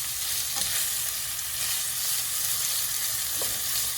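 Shrimp and pre-cooked green beans fry in garlic sauce, giving a loud, dense, continuous sizzle up close, with a couple of faint stirring scrapes and no voices.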